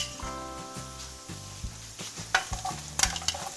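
Onion stir-fried in a pan with prawn stock for special fried rice, a brisk sizzle broken by quick scraping stirs and a few sharp utensil clinks, close and lively over faint background music.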